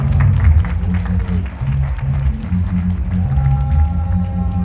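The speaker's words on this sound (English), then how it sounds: "let's give a round of applause" Audience applause at a Glastonbury Festival talk marking 40 years since the Battle of the Beanfield, a steady dense crowd clapping throughout.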